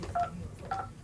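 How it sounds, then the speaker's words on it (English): Two short electronic telephone dialing tones sound about half a second apart, each a brief clean beep, fairly quiet over a faint background hum. "I'm going to try to dial Mike back in."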